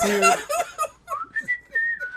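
Carl whistling a short, wandering tune during a game of Scrabble, a clear close whistle in separate phrases with small gaps, alongside a little laughter early on.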